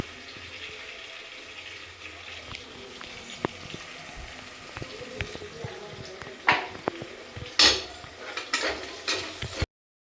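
Shallots and curry leaves cook in hot oil for a chicken curry, giving a soft continuous sizzle and rustle with occasional sharper scrapes and clinks of a spoon against the pan, moderately quiet, no voices.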